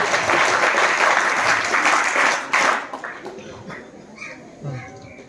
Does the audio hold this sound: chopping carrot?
no